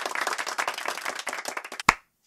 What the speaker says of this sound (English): Sorry if that clap spiked on the microphone.